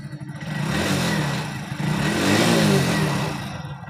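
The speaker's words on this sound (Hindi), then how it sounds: "Perfect, bike start." A Hero Honda motorcycle engine, just kick-started after a fuel pump fitting, runs and revs with a rough, rising roar and steady clattering close by for a few seconds, with no voices.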